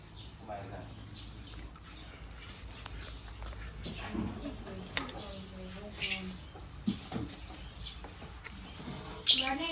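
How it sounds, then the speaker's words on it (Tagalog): Two pairs of small birds give a few brief, high chirps, most noticeable near the end, over low background noise while people talk nearby. "Ibon."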